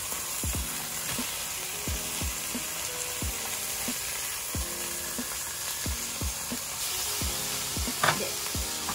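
Mackerel sizzles and fries steadily in oil in a pan, with a constant crackling hiss and repeated scraping, stirring strokes of a utensil against the pan throughout.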